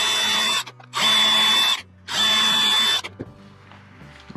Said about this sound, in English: I have a 1/8 inch bit that I'm going to use to pre-drill this.